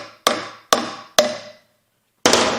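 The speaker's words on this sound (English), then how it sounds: "So do I hit it with a hammer?" A hammer strikes a metal part of a failed air compressor during teardown: three evenly spaced sharp metallic blows with short ringing decay, a pause, then a fourth hit, close and loud.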